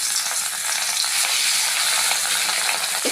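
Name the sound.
fish pieces frying in hot oil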